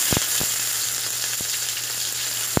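Chopped onions sizzle steadily in hot oil in a pan, cooked in an outdoor dirty kitchen for sautéed sweet potato tops, with a constant bright hiss and a few sharp clicks, no voices.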